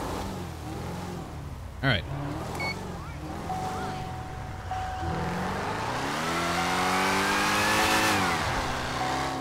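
A Nissan GTR R35 engine in GTA 5 revs and accelerates, its rising and falling harmonic drone loud and steady, with a brief voice over it.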